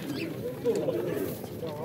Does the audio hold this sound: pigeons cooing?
yes